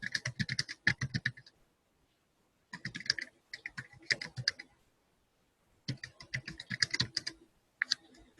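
Bursts of fast clicking keystrokes on a computer keyboard during a software QA class, heard close in several runs separated by brief silences.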